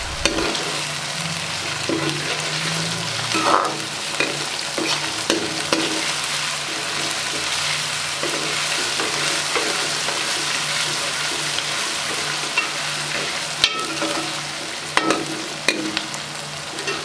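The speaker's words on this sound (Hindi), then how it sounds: "अदरक लहसुन को अच्छे तरीके से फ्राई करेंगे।" Ginger and garlic frying and being stirred in a pan for a cabbage, potato and capsicum dish, a steady close sizzle with intermittent scraping stir strokes throughout, no talking.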